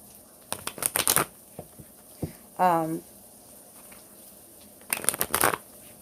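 Tarot cards being shuffled in two quick bursts of crisp riffling, separated by a short pause where a brief voice sound occurs.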